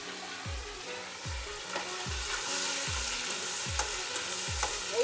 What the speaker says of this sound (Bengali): এগুলো ভালো করে একটু আবার কষিয়ে নেব।